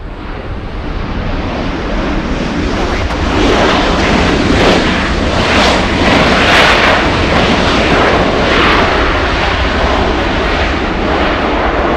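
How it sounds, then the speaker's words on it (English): A Southwest airliner arriving from Oakland to land at LAX passes close and loud, a dense rushing jet roar with wind buffeting that swells slightly midway and stays strong throughout. "And we have a Southwest 3225 flying in from Oakland, California"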